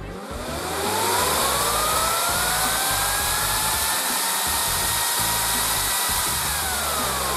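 An MX Guards battery-powered double ball bearing cooling fan spins up and runs at full blast, a loud, intense high-pitched whine and rushing roar that rises over the first second and then holds steady, with no talking.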